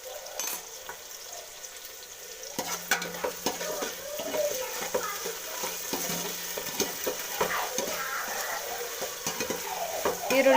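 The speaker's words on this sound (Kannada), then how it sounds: "ಈರುಳ್ಳಿ ಎಲ್ಲ ಚೆನ್ನಾಗಿ ಫ್ರೈ ಆಗಬೇಕು." Chopped onions and green chillies fry in hot oil with a spoonful of ginger garlic paste for a chicken gravy, giving a steady sizzle broken by repeated scraping stirs of the spoon in the pan, with no talking.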